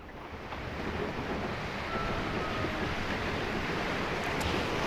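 Steady wind roars and buffets against the microphone, a broad continuous rushing noise that builds slightly and stays loud throughout, with no talking.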